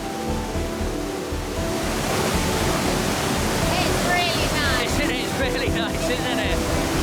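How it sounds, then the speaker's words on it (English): A waterfall in the Norwegian fjords crashes in a dense, continuous roar heard at close range from a cruise ship, loud and steady throughout with some faint splashing on top. "into the face of the waterfall we go. Can you hear it crashing?"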